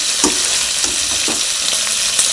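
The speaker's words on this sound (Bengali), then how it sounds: "চিংড়ি মাছটা ভাজা করে নিচ্ছি" Shrimp fry in a pan with a loud, dense sizzle that fills the clip, broken by soft periodic stirring scrapes and no voices.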